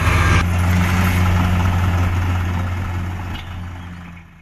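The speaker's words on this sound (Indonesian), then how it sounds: "di sini ada mobil dump truk" Toy dump truck playing a recorded engine sound, a loud rumbling idle that starts with a burst and slowly fades over several seconds.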